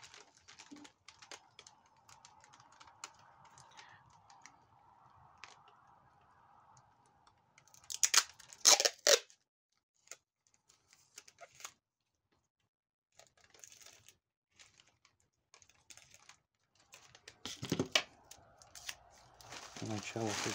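Sticky tape rips and pulls across crinkly bubble wrap while a painting is packed for international shipping, sounding in short close bursts of tearing and crackling between quiet stretches, with a voice talking faintly.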